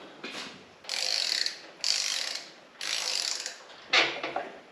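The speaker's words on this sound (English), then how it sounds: "I'm going to crank this around just to make sure nothing's hanging up." An old Takeuchi excavator engine is cranked over in four separate bursts of whirring, grinding mechanical noise, each lasting about a second with short pauses between.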